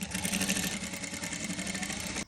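A sewing machine runs steadily and fast, stitching along the edge of the facing on an A-line frock, with a dense, even mechanical whir that holds throughout before stopping abruptly at the end.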